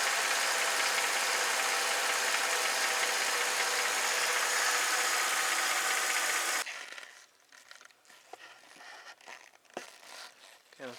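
A Mercedes engine idles with a loud, steady roar that abruptly drops to a quieter, uneven rumble as the tone changes, with scattered clicks and handling noise.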